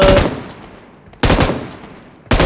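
Machine gun fire in the battle royale game BGMI: three loud, close bursts of rapid automatic shots, each cutting off sharply and separated by short pauses.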